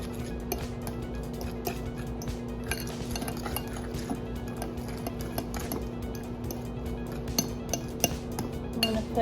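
A utensil clinks against a bowl in steady light taps while mayo and other ingredients are mixed together, up close and fairly quiet with no talking.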